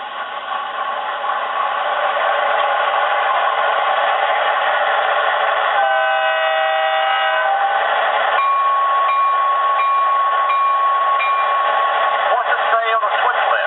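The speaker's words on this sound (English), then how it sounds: "let's see if our little switcher sounds like a switcher again." An MTH PS2 SW1500 switcher locomotive sound set plays a steady diesel idle rumble, then shifts to tonal whistle and horn-like effects. The sound is loud, close and slightly tinny, like a small onboard speaker.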